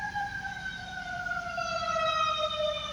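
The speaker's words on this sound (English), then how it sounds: "Hear the alarm?" A fire truck siren wails steadily in a slow, gliding tone, moderately distant and fairly faint over low background rumble.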